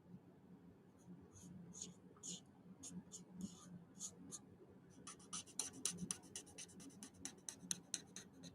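Markers scratch across smooth coloring-book paper in quick strokes, first in spaced bursts and then in rapid back-and-forth scribbling, close and soft under a faint background hum.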